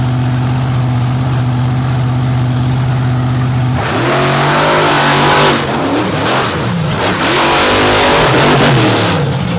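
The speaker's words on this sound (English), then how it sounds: "a great hole shot for that truck" A steady engine drone gives way to a roaring Chevy-bodied monster truck engine accelerating hard off the line, loud and sustained, with revving surges.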